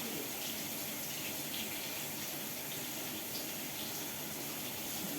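Water running steadily from a tap while waiting for gas-heated hot water to arrive, a constant close rushing splash with no breaks and no talking.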